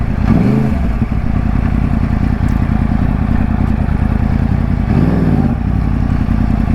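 A Yamaha R1 sport motorcycle's engine runs close by, a loud, continuous low mechanical drone with brief rising rev sweeps near the start and again around five seconds, and no talking.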